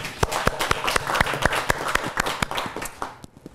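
A small audience claps during a Buddhist dharma talk, a steady patter of sharp hand claps from a handful of people, close and fairly loud, tapering at the end.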